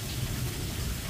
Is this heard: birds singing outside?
no